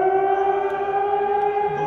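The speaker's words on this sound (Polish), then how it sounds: "Włączyła się syrena. Tutaj obok znajduje się remiza ochotniczej straży pożarnej." The siren at a volunteer fire brigade station next to a football ground wails as a loud, steady tone with clear harmonics throughout, heard alone.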